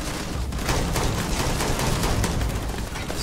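Gunfire from the player's weapon in Starfield, a dense, continuous rattle of rapid shots that stays loud and even for the whole stretch, with no talking.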